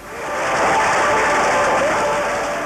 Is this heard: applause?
yes